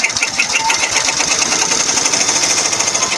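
An embroidery machine stitches an in-the-hoop project with a loud, steady, rapid mechanical chatter of needle strokes that continues unbroken. No one speaks.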